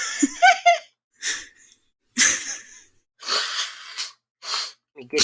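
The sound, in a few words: sneeze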